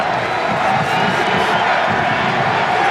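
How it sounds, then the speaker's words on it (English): Football stadium crowd at a 2002 Western Kentucky versus McNeese State college game, cheering and roaring loudly in a steady, dense wall of noise with scattered whoops and yells throughout. "McNeese crowd, who've been taken out of the ball game for the entire first half, really on their feet and making a lot of racket now"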